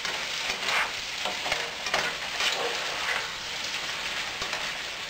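Crab meat mixture being stirred with its ingredients in a pan, producing a close, continuous sizzling and scraping with repeated stirring strokes, alone without talk.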